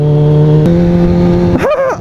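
A car drives past on a street, its engine note holding a steady drone before rising and bending sharply as it passes, loud and close.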